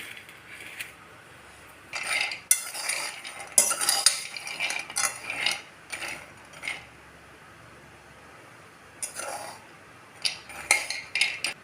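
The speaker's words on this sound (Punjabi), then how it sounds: "ਸੁੱਕੇ ਹੀ ਬਦਾਮ ਲੈ ਲੈਣੇ ਸੁੱਕੇ ਭੁੰਨਣੇ ਨੇ ਕੋਈ ਘਿਓ ਨਹੀਂ ਪਾਉਣਾ" Hard almonds rattle and scrape across a dry metal pan over a low gas flame, no ghee, in bursts of stirring, with clattering clinks and quiet pauses between.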